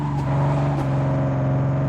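An Audi car in Truck & Logistics Simulator drives steadily with a close, constant engine hum and a low tonal drone. No one speaks.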